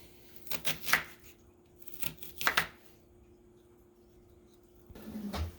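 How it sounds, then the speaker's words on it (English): Onions chopped quickly with a knife on a board: two brisk bursts of rapid chopping taps a second apart, a pause, then a softer thud near the end, close and fairly quiet. "The onions got to be quick because those onions will burn your eyeballs, and that is no fun. Choppity chop."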